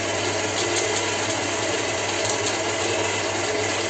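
Electric mixer beating eggs with sugar for condensed-milk cupcakes: a steady, continuous whirring drone, close and even in level throughout, with no talking.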